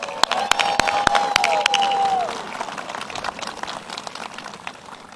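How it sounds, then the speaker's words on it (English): Applause and cheering from a crowd at an outdoor campaign rally in Sidney, Ohio, with sharp claps and whoops over a steady roar that swells early and then slowly fades. "Let's give her a great round of applause."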